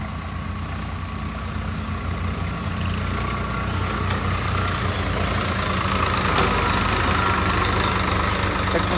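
A Swaraj or Massey Ferguson tractor engine works hard across a field being levelled for a fair, with the wheels slipping as it pulls. It gives a steady, loud, low diesel drone that holds throughout with no talk.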